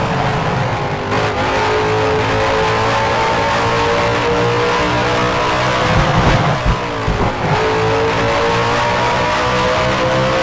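A 1966 Formula One race car at the Watkins Glen US Grand Prix in F1 Challenge pulls into the pit lane, its engine a steady loud harmonic drone with brief pitch shifts and a passing swell near the middle.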